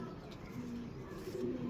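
Pigeon cooing close by, a few soft low coos heard quietly against faint background noise.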